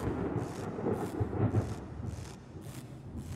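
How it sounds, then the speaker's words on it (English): Rolling thunder rumbles through a stormy scene in the video game LISA: The Painful, a steady low roar with periodic crackling bursts and a faint wash of rain, fairly loud and with no voices over it. "Oh, lightning."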